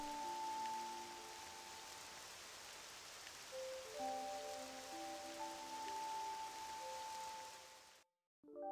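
Steady rain falls in the video game Octopath Traveler II, a soft even hiss running under sustained musical tones for about eight seconds before cutting to silence.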